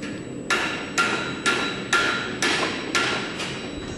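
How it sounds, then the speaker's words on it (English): Hammer blows ring on an anvil at a horseshoeing school, seven sharp metallic strikes at an even half-second rhythm, loud and close with bright ringing decay and no voices. "the sights and sounds of hammers and anvils is all a part of it"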